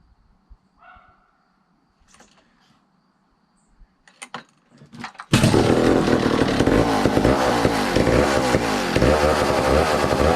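A 1962 McCulloch 1-46 chainsaw engine fires up after a few quiet clicks and knocks, then runs loud and rough with an uneven, pulsing idle that fills the rest of the clip.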